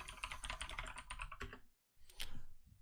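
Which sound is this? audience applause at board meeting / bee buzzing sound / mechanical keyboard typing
mechanical keyboard typing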